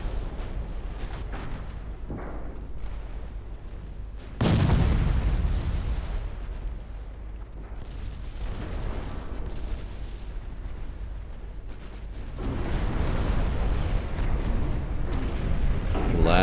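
Big battleship guns firing shells at a heavy cruiser in the naval strategy game Ultimate Admiral Dreadnoughts: two loud, deep booming salvos stand out over a steady rumble of distant gunfire, with quiet talk underneath.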